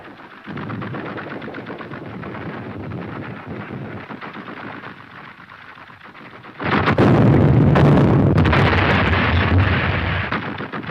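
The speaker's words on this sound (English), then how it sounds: "You mean that you're going to run through that shell fire?" Gunfire and shell fire in an old serial film rattle continuously, a dense steady barrage that swells abruptly louder partway through, with no talk over it.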